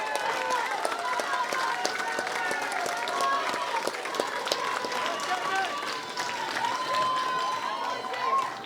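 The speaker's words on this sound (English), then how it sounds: "How about another round of applause for that incredible performance?" An audience applauds loudly and steadily after a performance by kids at an Elks event honoring the Irishman of the Year, a thick, continuous patter of many hands with scattered sharper claps.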